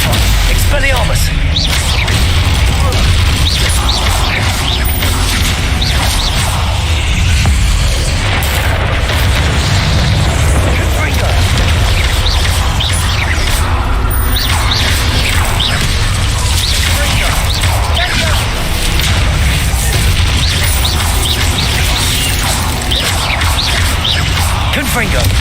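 Spell blasts and explosions in the Hogwarts Legacy game: loud, repeated booms, crashes and whooshes in constant combat, with voices calling out.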